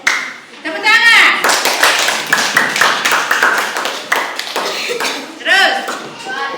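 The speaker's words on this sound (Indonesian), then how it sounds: "Tepuk tangan." Children in an elementary school religion class clap their hands together in several quick bursts of sharp, crisp claps, with a teacher's and kids' voices speaking over and between them.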